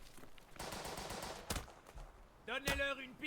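Gunshots in Burden of Command's North Africa fighting, a quiet burst of rattling fire followed by two sharp isolated cracks, with faint background noise and a brief voice-like tone near the end.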